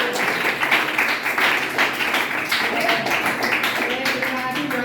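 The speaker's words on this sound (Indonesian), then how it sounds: "tepuk tangan untuk kita semuanya" A classroom group claps together for the class at the end of a chemistry lesson, a fairly close, ragged patter of hands with voices mixed in.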